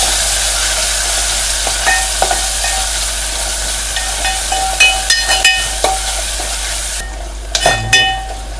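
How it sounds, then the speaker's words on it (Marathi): Chopped onion frying in oil, stirred in a pan: a loud continuous sizzle with repeated close spatula scrapes and knocks against the pan, denser toward the end. "त्यानंतर आपण याच्यात कांदा घालणार. तो चांगला परतून घ्यायचा तेलामध्ये."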